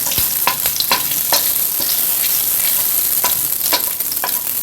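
Scallion whites and ginger sizzle in olive oil over medium-high heat, a dense steady crackle close by with scattered sharper pops and stirring scrapes throughout, no talking.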